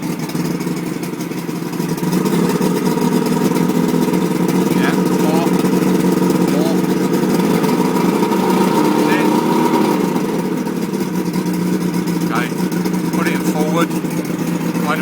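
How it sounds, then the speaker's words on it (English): An outboard boat engine running and revved, a steady loud motor drone throughout with a voice talking over it and faint chirps in the background. "Okay, and start her up, love. Lovely. And give her some revs."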